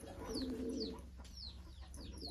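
Soft, low coos from high-flyer pigeons feeding repeat close by, with scattered chirps and faint bird calls, including chickens, around them in a quiet outdoor setting.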